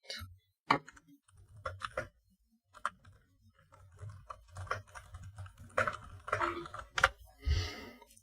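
Someone types on a computer keyboard, producing irregular bursts of close, crisp key clicks that start sparse and grow denser toward the end, with no talk.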